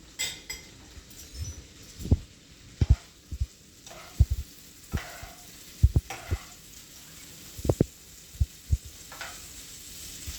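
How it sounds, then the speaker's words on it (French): Shelled shrimp sizzle in melted butter in a pan, a steady soft frying hiss broken by repeated sharp clinks and knocks of a utensil against the pan, close by. "Maintenant que le beurre est fondu, nous allons mettre les crevettes."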